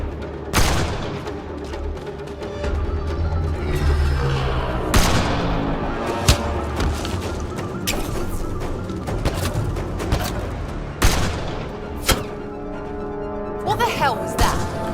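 Gunfire erupts during a sniper firefight in Mass Effect: Andromeda, with repeated sharp shots and booms cutting through a dense, loud battle mix under game music and voices.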